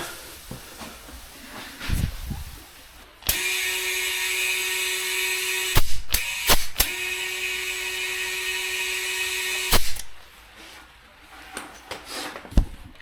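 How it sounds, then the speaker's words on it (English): Compressed air hisses loudly in two sustained bursts onto alloy wheel rims as tyres are blown up to seat, broken by short sharp clanks and pops between them, with quieter workshop noise before and after. "next we're going to get the tyres blown up onto the rims"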